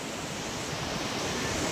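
A steady, loud roar of sea waves rushing and washing continuously after a super typhoon, with no pauses or voices.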